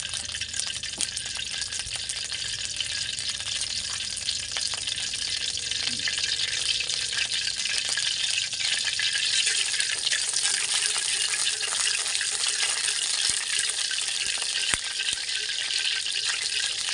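Garlic sautéing in hot cooking oil for a milkfish and dampalit soup gives a steady, close hiss of frying that runs evenly throughout, with faint stirring clinks.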